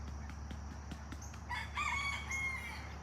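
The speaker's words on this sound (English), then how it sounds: "Got the chickens." A rooster crows in one clear call on a rainy morning on a farm, starting partway through over steady rain patter and a low background hum, fairly close and prominent.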